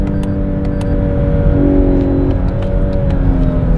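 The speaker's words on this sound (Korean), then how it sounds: "패들 시프트를 통한 변속" Inside a Lexus LS 500h hybrid sedan at high speed, a paddle-shifted gear change comes through as a loud, continuous engine and road drone whose tone briefly steps and shifts midway before settling again.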